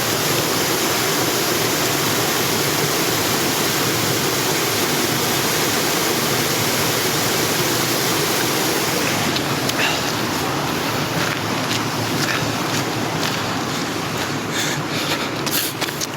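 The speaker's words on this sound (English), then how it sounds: "just listen to that water for a minute" Water rushes continuously beside a running trail, a loud, broadband stream-like roar that holds steady throughout, with a few faint rustles and knocks near the end.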